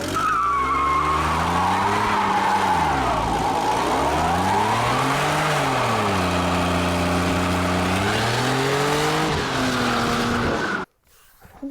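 A Mercedes SLK32 AMG does a burnout, its engine roaring and rising and falling in pitch over a continuous loud tire squeal, then cutting off abruptly near the end.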